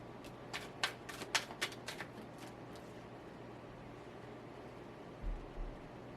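A shuffled tarot deck as a card is drawn, starting with a quick burst of close, crisp riffling flicks that trail off into quiet hiss, followed by a soft low thump near the end.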